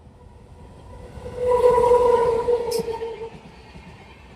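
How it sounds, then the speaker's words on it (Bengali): A long express train from Howrah to Radhikapur rushes past at speed, its rumble swelling as a loud sustained horn blast sounds mid-pass, then easing off again. "এই যে ট্রেনটা আসছে স্পিড গতিতে"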